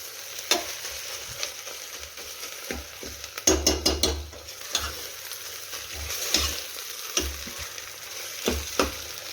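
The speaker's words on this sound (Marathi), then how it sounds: "तर आता छान असं मिक्स करून घेऊया तेल सुटेपर्यंत." A ginger, garlic and coriander paste with coconut fries in oil while a spatula scrapes and stirs, sharp metallic clatters rising now and then over a steady close sizzle; no talking.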